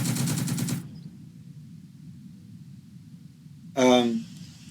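Gunfire in the Second Front wargame: a rapid burst of shots opens, then quiet, then a second short loud blast with a descending tonal tail.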